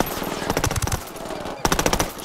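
Rapid automatic gunfire in Ghost Recon Wildlands, loud bursts of rattling shots in two clusters separated by a brief pause, with no talk over them.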